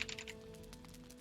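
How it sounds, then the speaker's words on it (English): A burst of rapid, random keystrokes on a computer keyboard while entering a world seed in the game Valheim: a quick cluster of light, close clicks in the first third, then only a steady low electrical hum with no talking. "I'm just going to smash my keyboard randomly."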